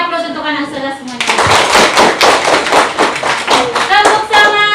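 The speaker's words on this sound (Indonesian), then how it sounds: "beri aplaus untuk anak saudara semuanya" A primary school class claps for fellow students, loud close hand claps in a quick uneven burst that follows a voice and ends with talking resuming.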